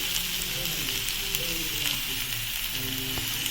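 Steady sizzle of potatoes frying in a pan, a constant hiss with faint crackles, close and moderately loud throughout.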